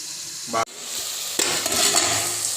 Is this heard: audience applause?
no